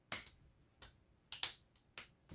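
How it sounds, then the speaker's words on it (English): Several sharp finger snaps, close and crisp, spaced irregularly across a couple of seconds in an otherwise quiet room. "Can you snap your fingers?"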